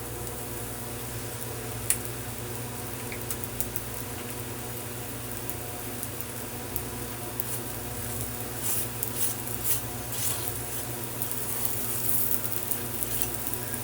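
Flatbread roasting with ghee on a hot pan gives a soft, steady sizzle under a constant background hum, with faint crackles and small taps scattered through.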